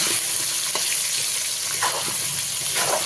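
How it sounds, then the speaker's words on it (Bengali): Potato pieces seasoned with salt and turmeric fry in hot oil, giving a steady close sizzle and hiss with occasional stirring clinks; no talking. "আলুগুলোকে খুব ভালো করে লাল লাল করে ভেজে নেব"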